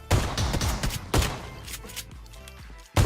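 Shotgun blasts in PUBG Mobile ring out sharply, with a loud boom at the start, a few more shots scattered through the middle and another heavy blast at the very end, each trailing off into a brief echo.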